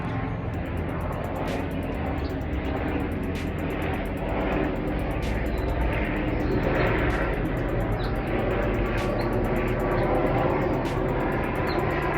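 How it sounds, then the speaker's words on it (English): A helicopter passes overhead in Oakland, producing a loud, steady broadband roar with a faint rhythmic pulsing that continues for the whole stretch, with no voices present. "Nothing like a good old Oakland helicopter to pollute the skies with"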